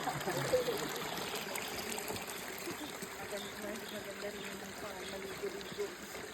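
The Pan ayayaman creek flows and trickles steadily at low volume, a soft constant wash of water, with people talking faintly now and then.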